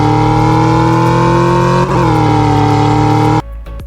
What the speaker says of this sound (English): the cars also sound pretty good